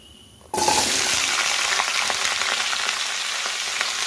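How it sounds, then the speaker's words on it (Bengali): Mixed vegetables drop into hot oil in a pan, and a loud sizzle bursts in abruptly after a quiet moment, then holds as a steady frying hiss. "এবার মিক্স ভেজিটেবিলটা দিয়ে দেবো"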